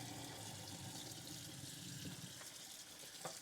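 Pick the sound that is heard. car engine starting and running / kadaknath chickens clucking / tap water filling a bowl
tap water filling a bowl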